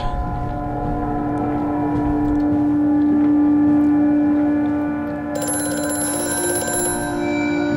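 An old telephone bell rings repeatedly in the eerie industrial setting of the video game Amnesia: A Machine for Pigs, steady and fairly loud over a low mechanical drone.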